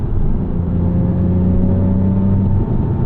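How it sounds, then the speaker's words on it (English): A 2006 Porsche Cayman S sports car with its engine sustaining a steady, droning mechanical howl from inside the cabin, holding a level tone before it eases off near the end. "You have that beautiful Porsche howl"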